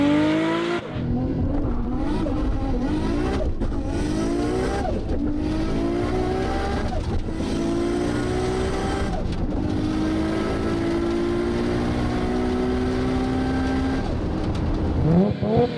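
An R32 Nissan Skyline GT-R launches hard on drag radial tyres, engine revving up through repeated gear changes with rising and falling pitch, loud and continuous, tyres faintly squealing, no voices.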